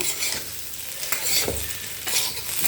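Taro root roast fries in a pan with chili powder, sizzling steadily while a spoon stirs and scrapes through it in a few loud sweeps, with no voices.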